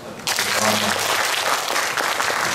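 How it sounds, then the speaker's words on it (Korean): A church congregation breaks into applause during a Sunday service after the choir sings, loud, steady clapping from many people that starts abruptly and carries on without pause. "박수 듣는 것만도 그렇게 짠하대요."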